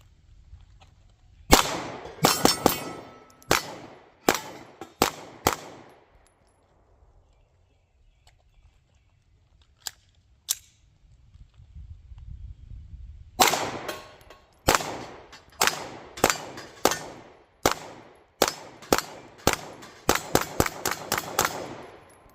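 Two rapid strings of sharp pistol shots from a Palmetto PSA Dagger Compact 9mm fired freehand at 9 yards on a range, loud and close, each burst of roughly eight to ten shots, separated by a quiet pause with faint handling noise.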